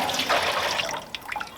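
Maple syrup poured from a container back into an evaporator pan, a steady splashing liquid pour that trails off into a few scattered drips near the end.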